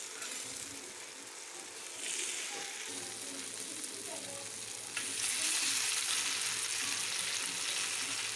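Pathrode frying in about two spoons of oil, a steady close sizzle with soft stirring scrapes that grows louder partway through and carries on without talk.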